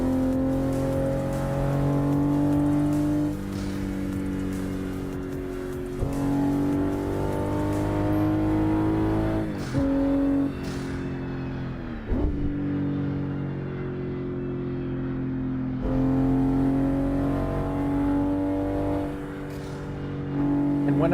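Car engine in a driving simulator game holds fifth gear, droning and rising in pitch through long revving pulls with several sharp drops between them, loud and continuous.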